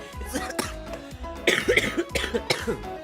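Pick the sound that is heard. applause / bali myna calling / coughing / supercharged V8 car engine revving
coughing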